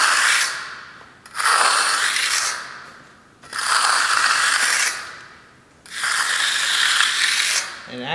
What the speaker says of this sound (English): I do drag the trowel a little bit in a straight line, just trying to work out and smooth out these corners